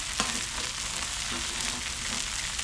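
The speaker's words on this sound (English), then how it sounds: "This way our crab cakes can continue to crisp up." Crab cakes and patty melts fry on an outdoor backyard griddle, giving a steady, even sizzle throughout with a couple of faint clicks and no talking.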